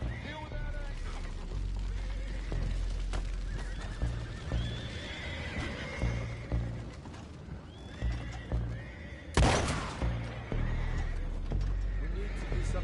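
Horses in the Red Dead Redemption 2 video game whinny and neigh several times with steady clip-clop hooves, over a low rumble and creaks, with a loud burst near the end; voices speak intermittently.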